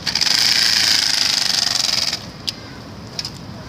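Four playing cards clipped front and back into the spokes of a bicycle's wheels make a loud, rapid buzzing flutter, like a small motorbike, for about two seconds before cutting off, leaving a few faint clicks.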